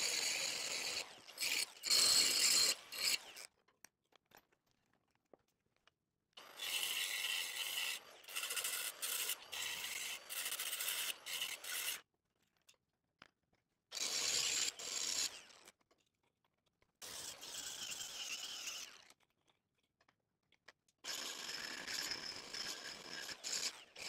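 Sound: buffing cleanup of a bad weld

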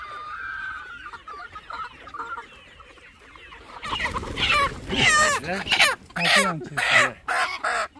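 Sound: Andijan black chickens clucking

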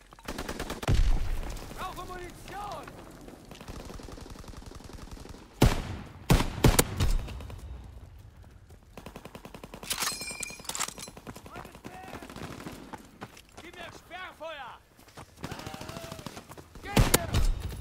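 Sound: gunfire from player shooting in video game

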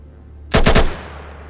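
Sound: gunfire in the video game ATOM RPG

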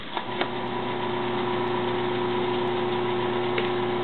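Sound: AC induction motor spinning after power is plugged in

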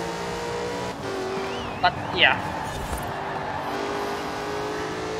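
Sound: car engine revving in Forza Horizon 4 video game

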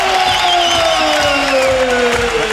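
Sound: crowd cheering at kickboxing event

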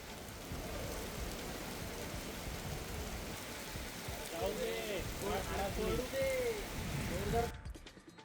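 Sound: heavy unseasonal rain

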